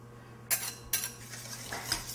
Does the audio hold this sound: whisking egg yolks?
yes